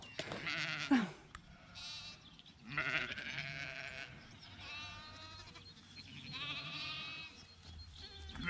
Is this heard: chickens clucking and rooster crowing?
no